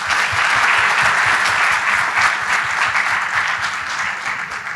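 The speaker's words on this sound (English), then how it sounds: "I think we should all acknowledge him today with a round of applause" Audience applause at an environment and climate change dialogue, a dense, loud, sustained round of clapping from a large crowd filling the room evenly throughout.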